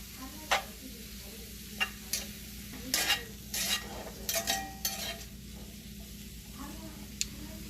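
Onions cook in a cast iron pan for BBQ spaghetti under a soft, steady sizzle, with scraping spatula stirs and sharp metallic knocks coming in irregular bursts, close and clear.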